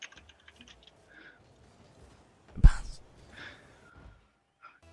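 Faint, scattered clicks on a computer keyboard as a player types chat during a Rocket League match, with a brief breathy exhale partway through.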